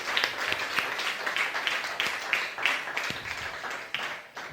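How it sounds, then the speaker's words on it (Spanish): A church congregation applauds during a Spanish-language Sunday service, with dense, steady clapping that holds for several seconds at moderate loudness and no clear talking over it. "Dale un aplauso, Señor."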